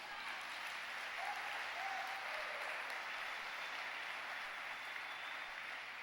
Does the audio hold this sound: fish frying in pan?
no